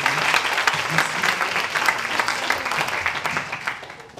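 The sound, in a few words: audience applauding at a ceremony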